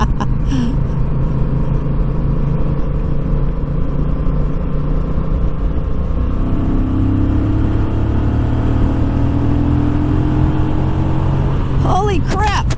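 A 2021 Honda Rebel 1100 DCT motorcycle accelerates hard in sports mode, its engine a loud, steady, rising rumble mixed with heavy wind roar, with a rider's voice over it.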